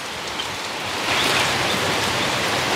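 Rain from a tropical depression in the Mekong Delta falls as a dense, steady hiss that grows slightly heavier after the first second and continues without voices.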